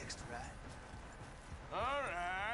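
Hooves of a Belgian draft horse in the game Red Dead Redemption 2, a soft rhythmic clip-clop in the background, faint under a voice that talks over it and rises toward the end.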